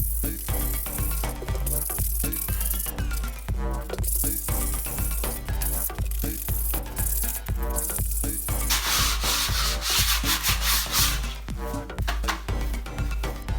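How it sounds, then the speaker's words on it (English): Hand-sanding a water-damaged, cracked wall with P80 sandpaper, a loud, close, rhythmic scratching of steady back-and-forth strokes that runs on without pause and with no talking. "I'm going to use some P80 sanding paper, get rid of all of this."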